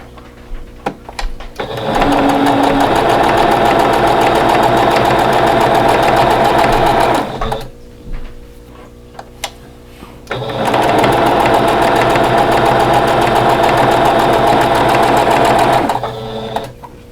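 A sewing machine runs along a drawn line on a quatrefoil quilt block in two long, loud, steady bursts of fast mechanical chatter, separated by a short pause filled with small handling clicks.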